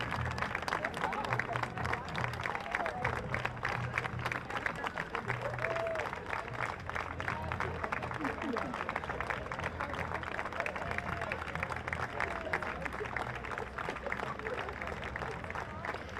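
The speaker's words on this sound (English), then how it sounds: "Lots of applause, well-deserved applause here for these gentlemen." At a Veterans Day parade in downtown Franklin, a large crowd applauds members of the Vietnam Veterans of America as they pass. The clapping is steady and distant under a commentator's voice and general crowd babble.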